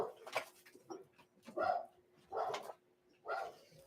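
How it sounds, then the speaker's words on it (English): A dog named Echo barks in a series of three or four separate woofs, moderately close, with brief whimpering sounds between them and no speech. "you guys hear my dog?"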